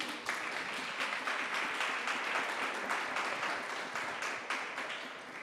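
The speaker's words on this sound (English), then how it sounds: "I think we can clap." A room of audience members claps steadily at a community theatre performance, an even wash of applause sustained throughout at moderate level with no talking.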